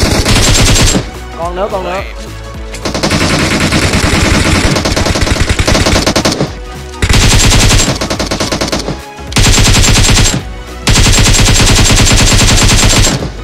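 Automatic rifle fire from an AKM in the battle game PUBG Mobile, long loud bursts of rapid gunshots broken by short pauses, with players talking over the shooting.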